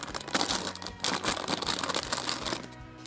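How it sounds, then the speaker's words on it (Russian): A crinkly plastic surprise packet of Naruto toys rustles and tears open in a busy, close burst of crackling and crumpling that continues for a few seconds. "Откроем сразу следующий пакетик."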